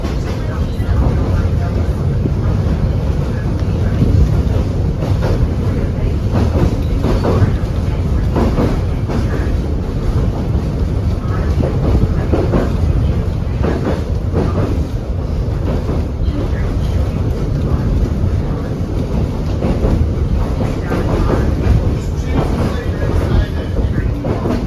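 The Kuranda Scenic Railway train runs steadily over the rails through sugarcane country and mountains. A loud, continuous rumble carries rhythmic clickety-clack wheel beats for the whole stretch, with a narrator speaking over it.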